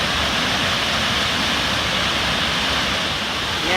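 A waterfall in Costa Rica roars as a steady, dense wash of falling water, loud and continuous and heard from nearby with no other sounds.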